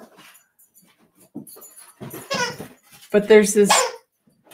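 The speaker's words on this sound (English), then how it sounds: "you can hear my dog playing" A pet dog plays with soft whimpers and yips, quiet at first then louder close bursts, mixed with a person talking over it.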